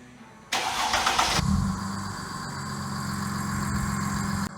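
A car engine cranks and catches with a brief loud burst, then settles into a steady idle rumble that continues until the end.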